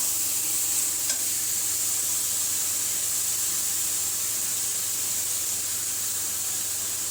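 Dried fish (shutki) sizzles in a pan over a low flame, a steady soft frying hiss with no voices.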